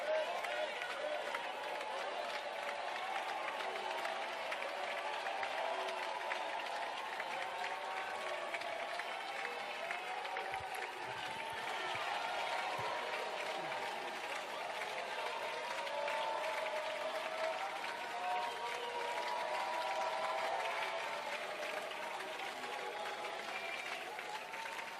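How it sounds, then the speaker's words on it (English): Sustained applause fills a parliamentary chamber during a State of the Nation Address debate as the next member takes the podium, a steady broad wash of clapping from many hands with no clear pauses. "Thank you for the applause."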